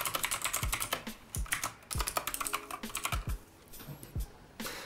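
Fast, uneven clacking of keys on an E-Element K-9999, a cheap mechanical gaming keyboard, heard close up and alone, with a few heavier thocks mixed in among the lighter clicks.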